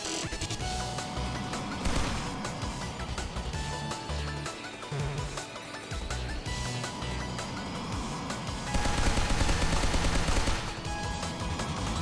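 Aircraft gunfire during a dogfight in Sky Rogue, fast rattling bursts of shots over a buzzing engine whine, loud and sustained with a heavier stretch near the end, no talk.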